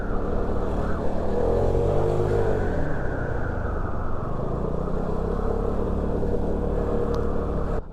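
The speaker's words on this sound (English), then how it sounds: "Oh, absolutely no trouble accelerating uphill here." A Vespa GTS 310 scooter accelerates uphill, its engine a steady, loud drone with a rising pitch through the first few seconds, then holding even as the ride continues.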